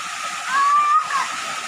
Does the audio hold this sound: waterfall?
yes